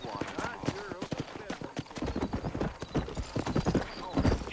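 Horse hooves trotting in Red Dead Redemption, a quick steady clip-clop rhythm of many close hoof strikes, with a voice talking over them.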